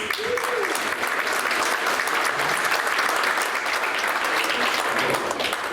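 A luncheon crowd at a university sports hall of fame induction gives sustained, even applause, a thick continuous wash of clapping at steady loudness throughout.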